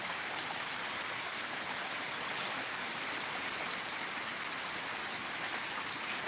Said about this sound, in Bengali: গতকাল রাত্রি থেকে প্রচণ্ড বৃষ্টি চলছে